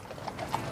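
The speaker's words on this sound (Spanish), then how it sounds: "Mientras recorren a caballo las calles de Londres fuera de la residencia oficial de la reina en Buckingham Palace" Horses' hooves clop faintly in a brief, uneven rhythm as riders cross London streets outside Buckingham Palace, set against a dull background wash.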